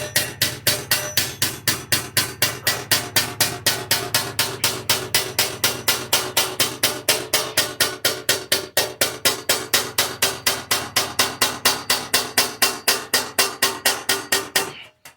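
Steady, rapid hammering of a sheet-metal edge over the end of an anvil while rolling an edge, sharp metallic blows repeating evenly and close for the whole stretch, with no talk.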